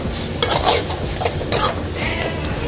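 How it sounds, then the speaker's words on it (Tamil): A spoon scrapes and stirs mutton masala spices in a pan, with a few clinks against the metal over a soft sizzle, close and moderately loud. "நல்லா கிளறி விட்டுட்டு"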